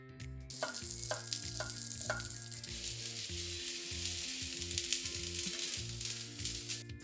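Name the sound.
tomatoes charring in a hot pan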